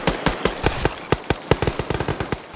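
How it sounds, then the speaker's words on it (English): Rapid bursts of machine-gun fire in an SCP video game operation, sharp cracking shots in uneven clusters and runs, loud and close, with no talk over them. "Say again, I can't hear you over the gunfire."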